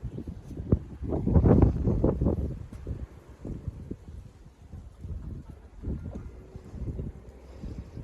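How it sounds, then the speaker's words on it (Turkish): Gusts of wind buffet the microphone in rough, low bursts, strongest early on and then easing into steadier, fainter rumbling. "Ama çok rüzgarlı."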